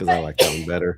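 A single quick sneeze bursts out between stretches of conversation in a sports show studio, short and sharp in the middle of nearby talking.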